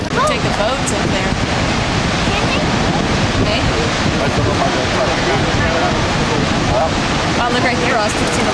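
Loud, steady roar of Niagara Falls fills the whole clip, a constant wash of broadband noise with wind buffeting and faint voices in the background.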